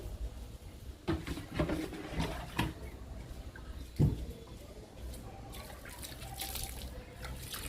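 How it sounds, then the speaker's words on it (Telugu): Aloe vera liquid is poured onto a potted coleus plant, giving quiet splashes and trickles in short bursts with a few drips and faint handling knocks in between. "ఇప్పుడు కొలియాస్కి ఇస్తున్నా లిక్విడ్ని"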